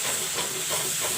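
Masala with chili and turmeric powder fries in a pan, a close, steady hissing sizzle with faint stirring underneath.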